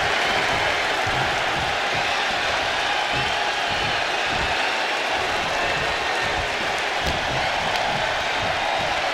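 A roaring arena crowd cheers and applauds in the WWE 2K25 wrestling game during a SmackDown show, a steady wide wash of noise that holds without a break for the full stretch.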